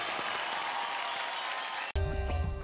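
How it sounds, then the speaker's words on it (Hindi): Studio audience applause on a TV singing competition after a duet performance, a dense clapping wash for about two seconds, abruptly cut into music. "एक बार जोरदार तालियां हो जाए इस अमेजिंग डुएट जोड़ी के लिए"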